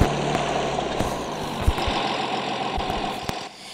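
A tractor engine idles steadily in the Farming Simulator 23 video game, a continuous low mechanical rumble with faint knocking pulses that holds at even loudness and drops away near the end.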